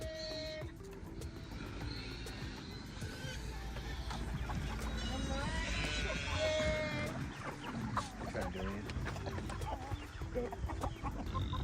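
Backyard chickens cluck faintly at a distance amid outdoor background noise, soft scattered calls without talk over them.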